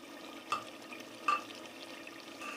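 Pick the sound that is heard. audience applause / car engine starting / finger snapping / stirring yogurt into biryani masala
stirring yogurt into biryani masala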